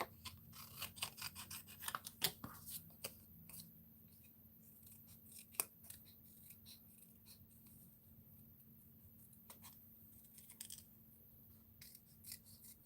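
Scissors snip and trim paper at a craft table, a few quiet cuts and rustles at the start followed by scattered faint handling sounds, with no talking.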